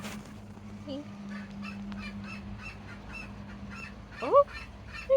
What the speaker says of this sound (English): You sound like a goose, don't you, Jet?